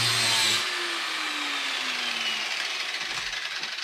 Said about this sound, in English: We're gonna use the flapper wheel and we're gonna just shape it.